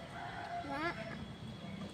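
A white Kelso rooster, a gamefowl, lets out a short crow near the middle, standing out against low background noise and faint talk.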